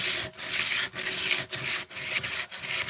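A tool edge is stroked against a sharpening surface to remove the burr on the back side, making close, rhythmic rasping rubs with short pauses, about two strokes per second.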